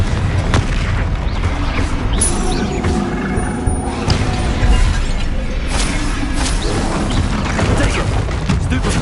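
Confringo blasting-spell explosions in a Harry Potter video game: loud, dense booming blasts and crashing bursts that run continuously without pause.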